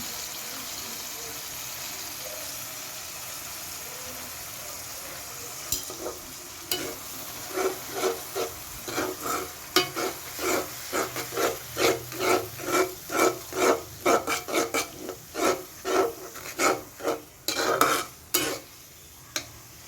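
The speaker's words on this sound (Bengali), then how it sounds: "মশলাটাকে ভালো করে কষিয়ে নেব" Spice paste with cumin and coriander is stir-fried in a pan for an aloo chicken masala, rhythmic scraping strokes growing steadily faster and louder over a soft sizzle, close up.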